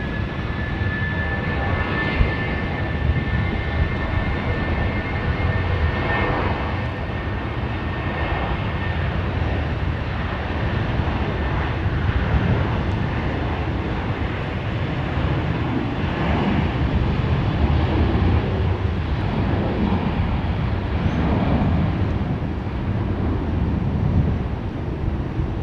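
A Jetstar passenger plane at Sydney Airport gives a steady, loud engine roar that rumbles on without a break and holds even across the whole stretch.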